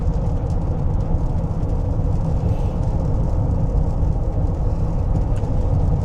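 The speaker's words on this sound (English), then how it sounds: "What you hear from the tires is what you hear from the tires." Steady road and tire roar from a Honda Ridgeline cruising on a two-lane highway, a continuous loud broadband rumble heard from inside the cab with no talking.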